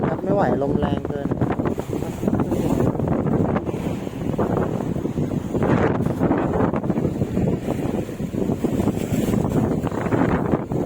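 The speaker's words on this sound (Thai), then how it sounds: "ไม่ไหวลมแรงเกิน" Strong wind at sea buffets the microphone in loud, continuous gusts while fishing from a boat, a dense roar with surging peaks and no break throughout.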